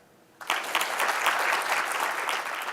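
An audience in a team-building talk claps together on request, a dense, steady patter of many hands that starts abruptly after a brief quiet moment and continues evenly at close range.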